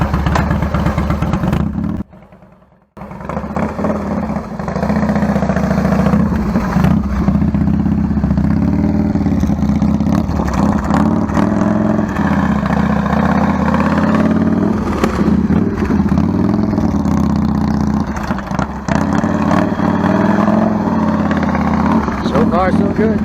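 A motorcycle engine drones loudly and steadily while riding, a continuous mid-pitched hum with a brief drop near the start, and a person talks over it throughout.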